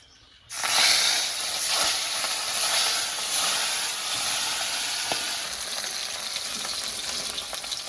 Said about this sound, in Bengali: তেল তো পুরো গরম হয়ে গেছে এবার মাছটা আমি দিয়ে দিই